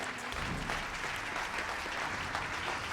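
A concert audience at a gala concert of the Friuli Venezia Giulia International Piano Competition applauds the Fazioli piano maker, a dense, steady wash of clapping that holds at an even level from start to finish.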